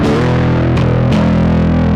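A Sterling by Music Man DarkRay electric bass plays through heavy distortion, a loud, thick sustained tone with two brief breaks where notes change, alone and up close.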